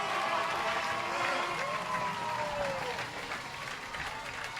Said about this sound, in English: Really strong crowd.